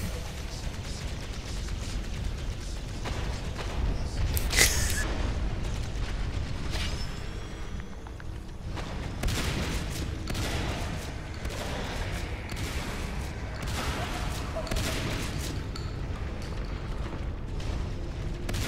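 Bursts of shotgun fire and other combat blasts from the game Natural Selection 2, dense and continuous, with several sharp booms over a rumbling battle background.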